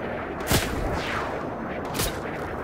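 Two sharp, booming hand cannon gunshots in a video game about a second and a half apart, heavy and punchy, over a steady noisy background.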